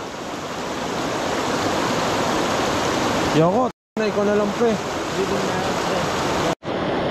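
Loud rushing water from a river in Nagcarlan, Laguna, Philippines roars steadily throughout, like strong waves, with a voice briefly speaking over it partway through.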